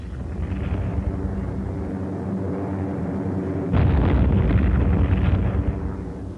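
Heavy explosions from Allied planes bombing a Japanese amphibious invasion force near Milne Bay, New Guinea, in wartime archival footage: a continuous low rumble that swells louder at about four seconds with dense booming blasts.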